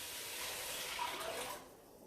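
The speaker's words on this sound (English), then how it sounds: "Then you add 2 liters of water, which is about 8 cups." Water poured from a container into a cooking pot holding onion and garlic for refried beans: a soft, steady splashing pour lasting about a second and a half, then tapering off, faint and alone.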